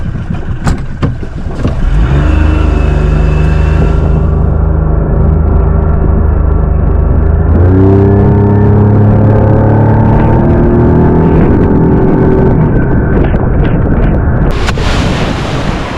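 A Honda 50 outboard motor pushes a plastic boat, with sharp knocking bursts as it starts, then a loud, steady engine drone that rises in pitch as it revs up and later drops back.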